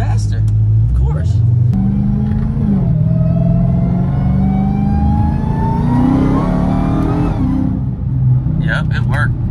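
A 1,000-wheel-horsepower car makes a hard pull, its engine rumbling loud and close as the revs climb steadily and then drop away. A brief burst of talk follows at the end.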